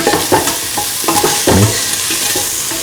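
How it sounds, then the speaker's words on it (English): Potato pieces tipped into a hot pan with salt and frying, a steady sizzle broken by several scraping stir strokes and clatters, close and fairly loud with no talking. "Put in the potato pieces."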